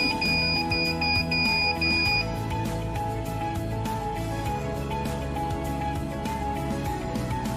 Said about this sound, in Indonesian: Lalu servo akan bergerak dan buzzer menyala.